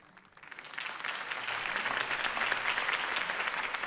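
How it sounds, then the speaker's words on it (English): Crowd applause after a mayoral campaign speech in Batman: The Telltale Series, swelling from quiet into a steady, dense clapping that holds at full strength, with no voices on top. "could have heard that applause"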